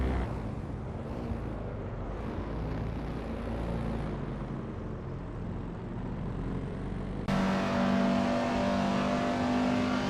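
A 1958 Austin Healey Sprite race car's engine drones steadily at track speed, a moderately loud continuous motor hum that suddenly shifts to a stronger, more tonal whine near the end as another car closes in.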